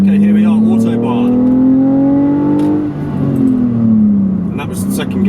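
A BMW Z4 pulling along the Autobahn, its engine drone rising steadily in pitch as it accelerates, then dropping briefly at a gear change before climbing again, loud and close from inside the car.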